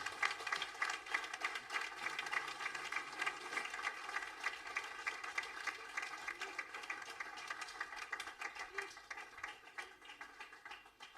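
Audience applause for concert performers rolls on steadily for about eleven seconds as a dense, even wash of many hands clapping, fading slightly toward the end.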